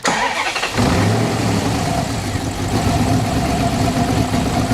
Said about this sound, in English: Go ahead and fire it up